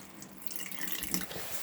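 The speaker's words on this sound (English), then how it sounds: "all the taps and the shower working as it should do" Water runs from the taps and shower of a 2009 Bailey Senator Louisiana caravan, a steady close hiss with splashing that swells slightly midway, no voices.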